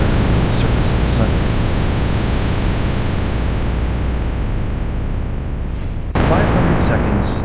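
Roaring fire of a spacecraft re-entering Earth's atmosphere, a loud continuous broadband rumble with a brief dip before surging again, dramatic and unbroken.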